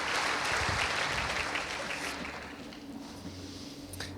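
A church congregation claps during a resurrection night service, a broad wash of applause that is loudest at the start and slowly fades over a few seconds.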